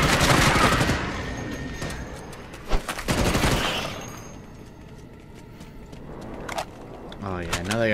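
Rapid automatic gunfire rattles in the video game Starship Troopers: Extermination, a loud sustained burst for the first few seconds with a sharp crack near three seconds, then it fades and a muffled voice comes in briefly.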